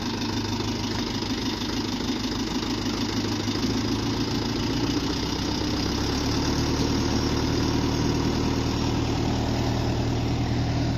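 A tractor-drawn potato planter works the field making rows, its engine running steadily and fairly loud with constant low droning and mechanical clatter throughout, no voices.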